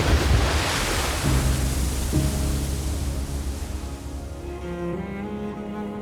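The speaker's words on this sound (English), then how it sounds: "The ocean moves and lives, whether or not we are there to see it." Ocean waves and wind on the west coast of Canada: loud rushing surf that slowly eases, mixed with gusty wind noise on the microphone, and faint low tones underneath.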